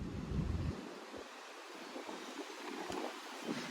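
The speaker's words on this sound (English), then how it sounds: "It is so windy today that this basket of daffodils started to flop over." Strong outdoor wind buffets the microphone in a loud, low rumbling gust at the start, then settles into a steady rushing hiss with a few smaller bumps.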